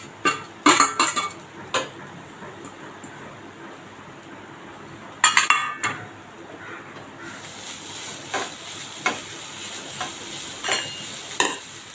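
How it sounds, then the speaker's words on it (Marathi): Grated fresh coconut filling sautés in a pan for a fasting kachori, with a gentle sizzle broken by sharp clinks and scrapes of a spoon stirring against the pan. "आता आपण हे जे ओला खोबरा आहे तो त्याच्यात घालणार आहे हलका परतून घेणार आहोत"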